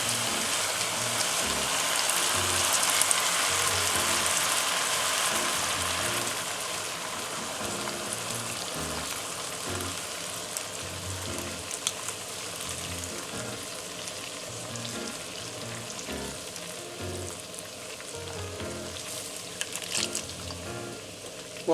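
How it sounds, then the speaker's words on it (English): Coconut soda poured into a pot of braising pork belly, a continuous fizzing, sizzling hiss that runs steadily for the whole stretch at close range, with no talk. "want to go ahead and add your coconut soda"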